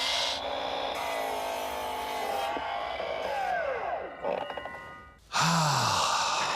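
A hand saw rasps steadily through wood in long continuous strokes on a coastal cottage renovation job, then the cut stops and a short higher scrape and a louder knock follow near the end.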